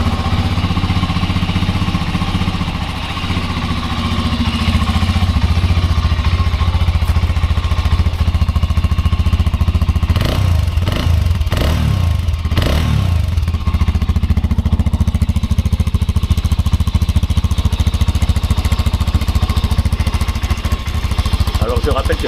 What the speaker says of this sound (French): c'est un monocylindre, mais avec deux soupapes d'échappement et deux sorties d'échappement